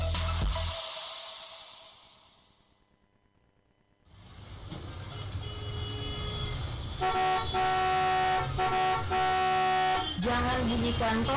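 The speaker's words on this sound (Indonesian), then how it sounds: "membunyikan klakson berulang kali" Vehicle horn honking repeatedly in a traffic scene, loud bursts of tooting stacked over engine noise after a brief quiet gap, close and insistent.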